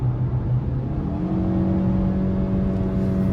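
A 2022 Mazda CX-5 S Carbon Edition AWD 2.5 driven in sport mode, heard from inside the cabin as a steady engine drone whose pitch climbs smoothly as it revs.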